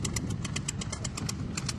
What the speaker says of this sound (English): He's just idling, isn't he? Oh, yeah. That's an idle.